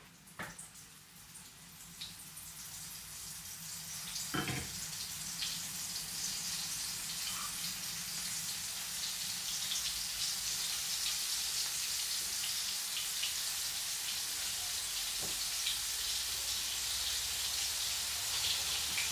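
Meatballs frying in hot oil in a pan on a gas stove, a steady broadband sizzle that holds at a constant level throughout, with a few brief clicks and knocks from the pan.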